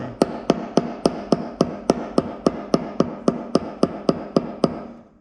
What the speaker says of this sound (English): Get a rubber hammer or something.